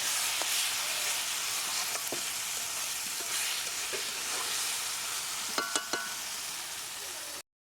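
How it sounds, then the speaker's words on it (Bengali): Spice paste with turmeric sizzles steadily in a pan for about seven seconds, a loud continuous frying hiss broken by a few sharp scrapes of stirring near the end. "দেড় চামচ মতো হলুদ দিয়ে ভালো করে কষিয়ে নেবো"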